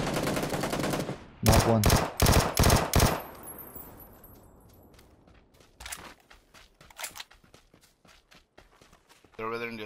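Video game gunfire crackles in fast automatic bursts near the start, then trails off into sparse shots, running footsteps and scattered single cracks, with a player's voice briefly heard.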